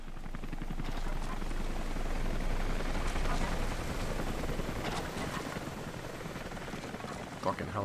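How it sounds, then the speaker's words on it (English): A helicopter in the Rise of the Tomb Raider video game drones with a continuous rotor rumble, mixed with other game sound effects and fading slightly toward the end. "Fucking helicopter."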